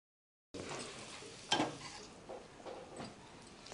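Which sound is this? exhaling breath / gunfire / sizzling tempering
sizzling tempering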